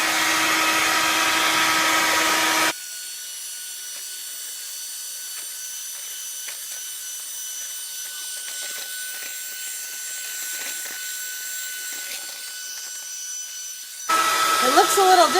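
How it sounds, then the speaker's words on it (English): Electric mixer whipping egg whites from six separated eggs, a steady high mechanical whir running continuously for about twelve seconds, with a louder, broader burst at the start and end. "So here we go, just egg whites in a mixer."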